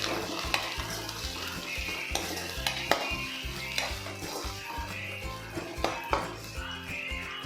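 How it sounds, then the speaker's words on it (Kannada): Ginger garlic paste frying in a pan for a potato tomato curry: a constant hiss of hot oil with frequent spatula scrapes and metallic taps against the pan, close and fairly loud throughout. "ಹಾಕೊಂಡು ಹಸಿ ವಾಸನೆ ಹೋಗೋವರೆಗೂ ಚೆನ್ನಾಗಿ ಫ್ರೈ ಮಾಡ್ಕೊಳ್ಳಿ"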